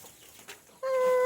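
A laying hen gives a couple of soft clucks, then a loud, sustained squawking call rings out close by.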